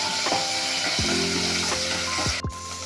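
Ginger garlic paste frying in hot oil, a loud, continuous close sizzle broken by several sharp scrapes and knocks of a stirring spoon against the pan.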